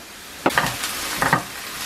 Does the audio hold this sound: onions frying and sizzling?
yes